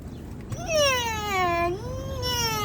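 A small kitten gives a single drawn-out meow with rising and falling pitch, close and clear over a low background hum.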